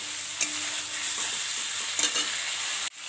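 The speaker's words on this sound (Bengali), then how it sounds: "খুব ভালো করে একটু কষিয়ে নিচ্ছি।" Egg and potato sautéing in a pan, stirred steadily: a soft, even sizzle broken by a few sharp scrapes of the spatula, ending in a brief knock, no voices.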